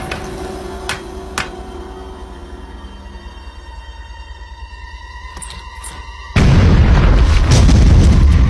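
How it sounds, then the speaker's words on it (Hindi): A cartoon explosion blasts apart a rock: a quiet stretch with a couple of small ticks gives way to a sudden loud roaring burst that holds steady to the end. "उड़ा दो इस चट्टान को।"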